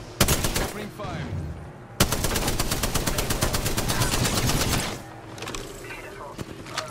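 Automatic gunfire rattles in the video game Apex Legends: a long rapid burst of evenly spaced shots, loud and close, with separate single shots before and after it and a voice speaking underneath.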